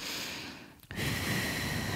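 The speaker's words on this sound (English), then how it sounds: "exhale out through pursed lips" Breath pushed out through pursed lips during a yoga balance pose on a mat: a steady, soft airy exhale lasting most of a second, close to the microphone, after a brief pause, with no talking.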